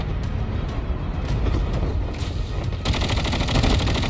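Rapid bursts of BP-50 rifle fire in a battle royale video game ring out loud and dense, with engine noise underneath and a brighter, harsher stretch of shooting near the end.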